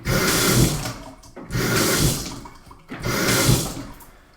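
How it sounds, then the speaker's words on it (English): Faucet water running in bursts switched on by a Tapmaster toe kick activator, three separate spells of steady splashing flow, each starting abruptly and fading, close and fairly loud with no talking. "it will momentarily turn the water on, which means it runs as long as you're holding the activator down"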